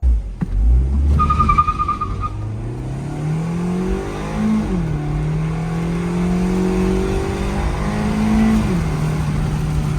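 A Fiat 500c engine while driving, a close, loud, steady drone whose pitch climbs and drops with gear changes, with a brief high tone early on.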